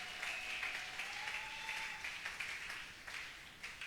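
A congregation at a French-language sermon applauds, a soft continuous wash of many hands with scattered louder claps and a faint sustained tone running beneath, fairly distant and low in level.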